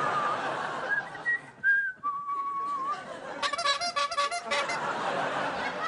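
A wavering, sliding comedic whistle rises and dips in playful tones on a late-night talk show, followed by a burst of squeaky trills, with soft background murmur.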